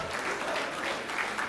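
An audience at a Hindi comic poetry recital breaks into sustained applause, an even, moderately distant wash of many hands clapping.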